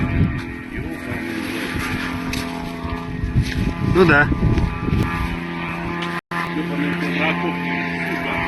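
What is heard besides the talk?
drone flying overhead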